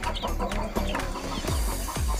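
Young chicks on their first day in a chick pen, a busy chorus of overlapping high peeps and chirps with a few lower clucks, fairly close and continuous, no talk.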